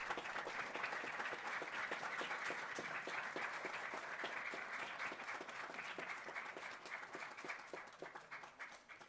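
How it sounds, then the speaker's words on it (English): Steady applause from an audience honoring students at a bilingual program event, dense hand clapping throughout that gradually thins and softens toward the end, fairly quiet overall. "let's give them a round of applause"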